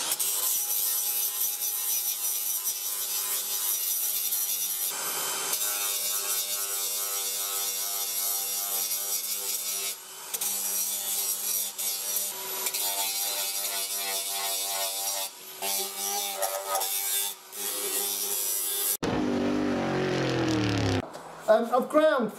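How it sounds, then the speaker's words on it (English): A rough sanding disc grinds plastic in long, continuous, harsh abrasive passes with brief dips, loud and close, ending in a few seconds of different scraping and knocks, with no talking. "make sure everything's really roughed up good with the rough sanding disc, because stuff don't stick to plastic"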